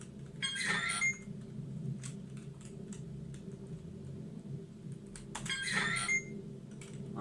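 A keycard door lock gives two short electronic beep bursts about five seconds apart over a low steady room hum, with faint clicks in between.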